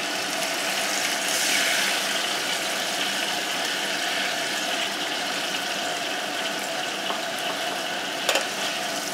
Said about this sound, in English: I'm going to put some pasta water into the pan here.